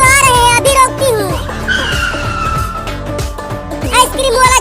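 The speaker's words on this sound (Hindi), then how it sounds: "आइसक्रीम वाला गाड़ी रुक गया" A cartoon ice cream van brakes to a halt with a drawn-out tire squeal and skid over busy music and sound effects, loud and close, ending in a short stop.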